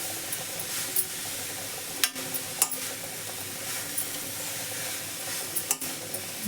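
Grated carrot frying in a pan and being stirred, a soft continuous sizzle broken by a few sharp scrapes and clinks of the spoon against the pan, with no talking.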